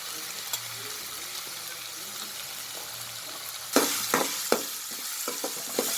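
Two large onions, finely chopped, dropped into a pan and frying, low sizzle at first, then a run of sharp stirring scrapes and clatters from the spatula, close by.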